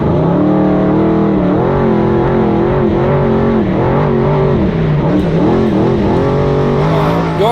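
A race truck engine revs hard and steadily while powering through mud puddles, loud and close, its pitch rising and dipping as the throttle is worked, with no talk.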